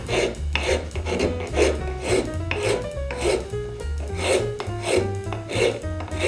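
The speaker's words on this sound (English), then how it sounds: "I'm just going to take my rasp and push stroke. I'm just going to follow that round over." A wood rasp pushed in repeated strokes along a rounded-over edge of a wooden paper towel rack, about eight to nine rhythmic scraping rasps, close and crisp, with no talking.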